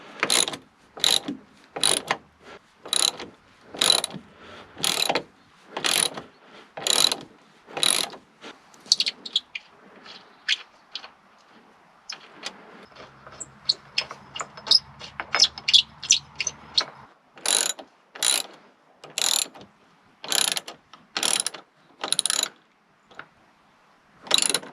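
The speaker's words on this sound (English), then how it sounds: "step number one would be to remove this bolt" A hand ratchet clicks in quick, even bursts while undoing a bolt on the bonnet of a Ford Mondeo MK4, close and crisp, with a quieter stretch of light mechanical fiddling in the middle before the ratcheting resumes.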